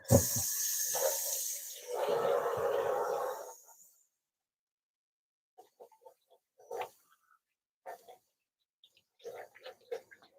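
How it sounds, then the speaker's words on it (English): Tap water runs into a kitchen sink for about four seconds during hand washing while preparing a plant-based meal, a steady broadband rush that stops abruptly, followed by faint scattered clinks and small handling noises. "I'm just going to wash my hand real quick."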